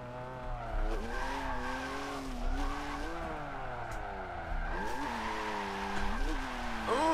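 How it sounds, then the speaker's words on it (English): A drift car in Forza Motorsport 7, played with a 900-degree wheel, holds long wavering tire squeals over a steady engine drone, with pitch sliding up and down through the slides, and a voice talking underneath. "Try drifting the outside of this."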